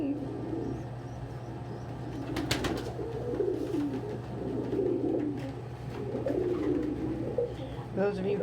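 Baby pigeon being hand-fed at breakfast, giving soft repeated coos that rise and fall in low murmuring bursts under a steady background hum, with brief sharper noises and quiet talk nearby.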